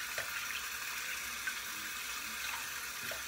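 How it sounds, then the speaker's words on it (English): A razor is rinsed under a running tap, a steady broadband rush of water with faint clinks as the blade is swished, alone and close. "Rinse it out real quick."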